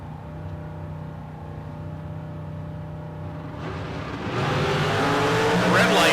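Drag racing cars at a drag strip during a Spring Fling Million event: a steady engine drone swells into a louder roar and rising whine near the end, with an announcer's voice running over it.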